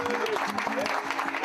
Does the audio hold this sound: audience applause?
yes